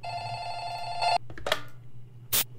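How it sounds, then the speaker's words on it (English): A telephone bell rings loudly in a Roblox horror game called Light Bulb, one sustained ring that cuts off, followed by short clicks and a sharp burst of noise. "The phone rang."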